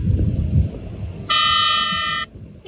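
A cheap 80-rupee replacement vehicle horn gives one loud, steady buzzing blast of about a second, close by, after a stretch of low background rumble.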